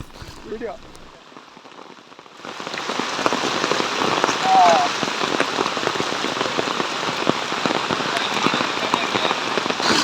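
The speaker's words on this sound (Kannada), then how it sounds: "ತೀರ್ಥಹಳ್ಳಿ ತಾಲೂಕಿನ ಆಗುಂಬೆಯಲ್ಲಿಯೂ ಕೂಡ ವರುಣಾರ್ಭಟ ಜೋರಾಗಿದೆ" Heavy monsoon rain pours down in Agumbe, Thirthahalli taluk, Shivamogga district, starting faintly with a few drops and then building after a couple of seconds into a loud, steady roar of rain on surfaces.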